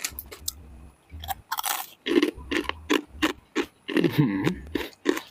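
Crispy squid crackers are crunched and chewed close up, with a steady run of sharp bites and brittle crackling over several seconds.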